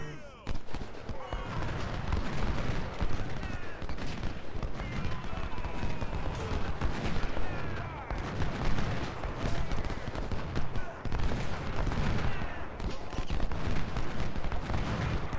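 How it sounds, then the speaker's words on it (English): Massed musket and cannon fire in the Civil War strategy game Ultimate General: Civil War, a dense, unbroken crackle of overlapping shots that holds at a steady loudness throughout. "why don't I tell this gun to shoot him? That way,"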